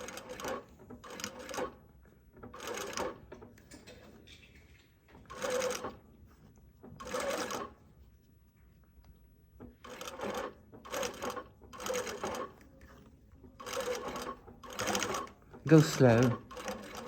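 A sewing machine stitches fabric for a top with darts in short, rhythmic bursts of rapid needle clatter separated by pauses, close and clear, with a person speaking briefly.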